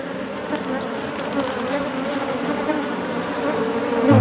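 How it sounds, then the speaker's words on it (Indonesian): Wild bees swarm inside a colony hidden in rock crevices, a dense, steady buzzing hum heard up close that grows slightly louder toward the end, with no voices. "sehingga untuk lebah-lebah ini pada bersembunyi atau ngumpet di batu-batu itu ya"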